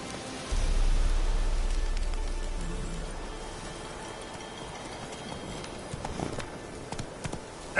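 Roach the horse trots in a video game, a close, steady clip-clop of hooves over soft ground with a rainy hiss behind and a few louder knocks near the end.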